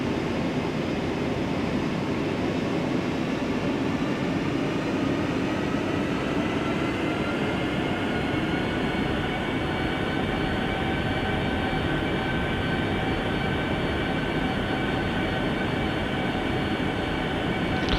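An airliner on a flight from Qatar to Saudi Arabia makes a continuous, loud engine roar and rumble throughout its takeoff roll, heard from inside the aircraft.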